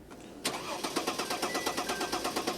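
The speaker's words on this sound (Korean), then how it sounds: "이제 시동을 한번 걸어 보겠습니다." A Mercedes-Benz S350d diesel, freshly fitted with a new high-pressure pump, belt set and alternator, cranks and fires into a close, loud idle with a steady rhythmic diesel clatter pulsing evenly after the start.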